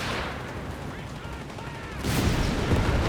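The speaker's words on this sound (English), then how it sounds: "The result is hundreds of bullets ripping through the British bodies." Sustained machine gun fire from a German Ace machine gun crew in the Company of Heroes 3 battle, a dense continuous rattle over battlefield noise, growing louder and heavier in the last second.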